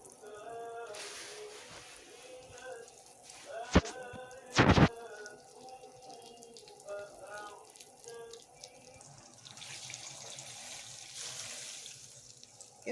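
Tap water runs into a cooking pot for orzo soup in a home kitchen, a quiet pouring hiss with a couple of louder splashing bursts and faint kitchen clatter.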